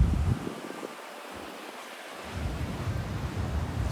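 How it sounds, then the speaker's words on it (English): Ocean surf rolling onto a beach in Vietnam during rainy season, a steady broad wash of waves with a softer lull midway before the roar builds again, no voices. "Still got the waves rolling in."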